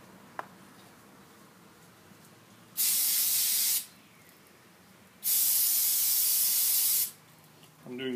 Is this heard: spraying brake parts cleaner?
yes